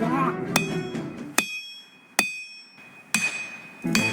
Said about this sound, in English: Now this hammer strike right here